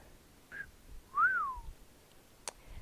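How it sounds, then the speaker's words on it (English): Someone whistles a short note, then a longer rising-and-falling one, fairly soft in a quiet room, followed by a faint click. "He whistled."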